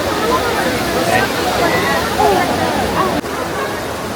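Continuous splashing rush of water from the Trevi Fountain in Rome, loud and close, with a hubbub of crowd voices mixed underneath throughout.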